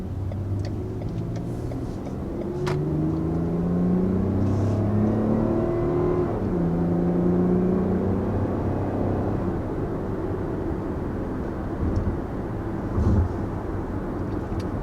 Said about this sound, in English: There's a bit of an acceleration, a little bit foiled by the red light here